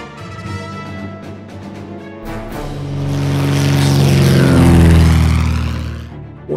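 Carrier-launched aircraft in the WW2 strategy game Order of Battle, a propeller engine drone that swells into a loud roaring pass, peaks, then fades away, heard alone.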